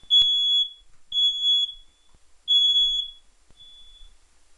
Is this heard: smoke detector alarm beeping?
yes